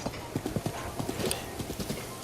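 A horse in Zelda Breath of the Wild trots along with quick, regular clip-clop hoofbeats, loud and close, carrying on for the whole stretch without pause.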